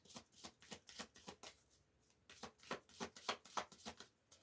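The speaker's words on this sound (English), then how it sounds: "I'm going to draw a few oracle cards" Oracle cards being shuffled and drawn by hand, quiet bursts of rapid riffling flicks in two runs separated by a short pause, close and soft.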